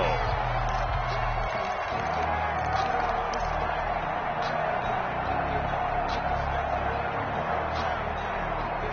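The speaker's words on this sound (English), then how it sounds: "the crowd getting into it as we come up on a big third down" Stadium crowd in the Madden 21 football video game building up before a big third down, a steady wash of cheering and whoops with scattered claps, constant and fairly loud for the whole stretch.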